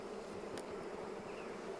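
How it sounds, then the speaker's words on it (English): Honeybees buzz around open hive frames as the beekeeper smokes them aside, a soft, steady hum with occasional louder passes of single bees close by, no talking. "I'm going to smoke the bees out of the way so I don't squash"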